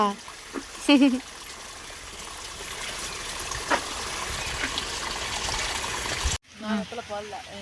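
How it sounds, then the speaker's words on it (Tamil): A child pours water into a picked taro leaf in a rainy hill village, making a steady trickling stream over several seconds, with a voice speaking over it near the start and at the end. "சேம்பை இலையை பிடுங்கிட்டு வந்து அதில் தண்ணி ஊற்றி அவனாக விளாண்டுட்டு இருக்கான்"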